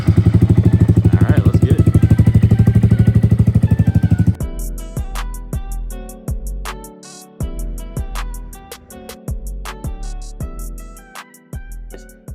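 A Honda Grom 3/5-size motorcycle fitted with an aftermarket moto exhaust idles with a rapid, loud, steady putter for about four seconds, then cuts away to rhythmic music; someone speaks briefly.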